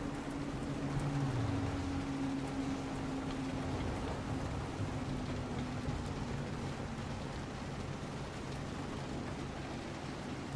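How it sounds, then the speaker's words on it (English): Steady rain hisses continuously on a car, a dense broadband wash with a low rumble beneath, fairly loud and unbroken throughout. "Oh, it started raining now."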